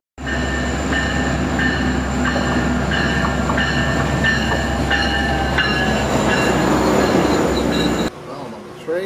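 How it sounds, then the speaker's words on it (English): Commuter train running on rails toward downtown Toronto, a loud steady rumble with rhythmic clicking of wheels over track joints and faint squeal, cutting off near the end. "Well, I'm on the train."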